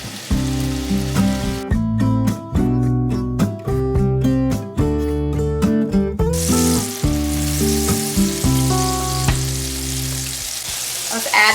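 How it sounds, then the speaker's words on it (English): Olive oil and a couple of pats of butter sizzle in a large skillet. A constant close crackle runs under bursts of loud tonal music throughout. "Now in this large skillet, I'm gonna add some olive oil. I'm gonna add in a couple of pats of butter."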